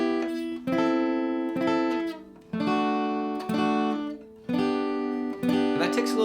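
Acoustic guitar strumming bright chords on only the top three strings in the rhythm of a song, each chord ringing out before the next, close and clear.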